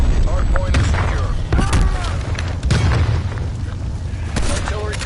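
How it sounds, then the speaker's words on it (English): Artillery explosions in Call of Duty Black Ops Cold War, a series of heavy booms and blasts arriving every second or so, mixed with gunfire and broken up by brief spoken callouts. "Incoming artillery."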